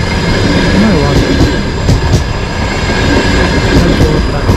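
A Moscow-Adler passenger train rolls past near Lazarevskoye beach in Sochi, a loud, close, continuous rumble with rhythmic clickety-clack of wheels over rail joints.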